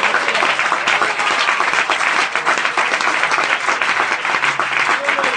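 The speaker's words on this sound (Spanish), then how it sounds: "Un aplauso fuerte para nuestro Dios." A congregation at an Adventist evangelism camp service applauds loudly and steadily for God, dense clapping filling the room without a break.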